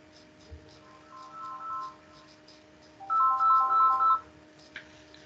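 An incoming call sets off a phone ringtone in a quiet room, with two separate bursts of a bright repeating electronic melody about a second apart and faint background noise in between.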